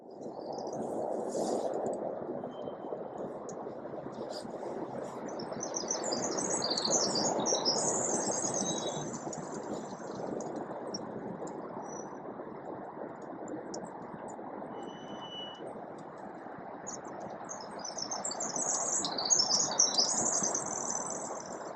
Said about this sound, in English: there's so many amazing sounds out here, different birds